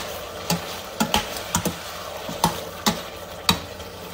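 Onion fries in a pan under a soft, steady sizzle, broken by a series of sharp clicks and scrapes as a utensil stirs it, close and fairly quiet, with no talking.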